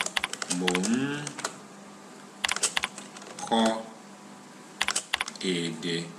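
Quick bursts of keystrokes clatter on a computer keyboard while Yoruba text is typed, arriving in short clusters with pauses between them, and someone talks over the typing.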